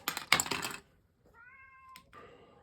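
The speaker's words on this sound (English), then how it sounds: "ignore the crying cat, please. He just wants to get out." A cat cries to be let outside, giving one drawn-out, plaintive meow and then a shorter second cry, after a burst of clattering noise at the start.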